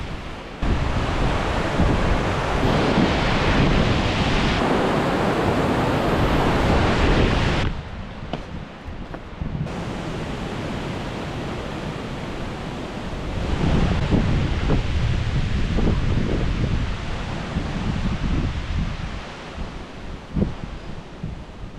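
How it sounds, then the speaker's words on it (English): Strong wind roars across a mountainside at Tuckerman Ravine in June, a loud, continuous broadband rush that surges in gusts, eases briefly midway, then builds again, with no voices. "it's a lot windier today, but there's not nearly as much rain"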